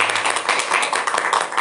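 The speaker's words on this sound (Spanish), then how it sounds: "Un aplauso para Michael" An audience claps at a book launch event. A brief, dense patter of hands stays steady throughout, with no voices above it.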